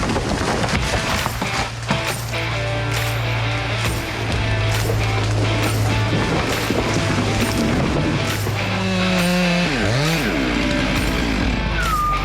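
Chainsaw cutting cottonwood trees growing out of a sand hill at a logging site, a loud continuous engine drone with revving and pitch sweeps near the end, close and steady throughout.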